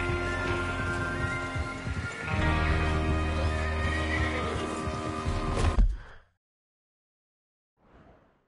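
A horse in a western video game gives a long, loud whinny with a sighing snort at its close, followed by silence and a faint brief breath.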